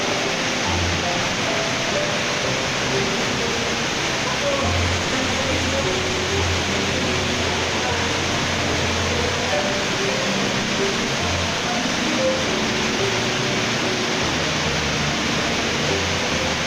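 Steady broadband rushing of falling water from the Lubuk Pendakian waterfall, continuous and fairly loud throughout with no pauses, heard nearby.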